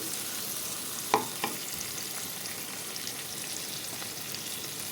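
Two small chopped tomatoes fry in a pan for a Bengali-style rui fish curry, giving a constant even sizzle with a couple of sharp clinks from the spoon as they are stirred, no voices.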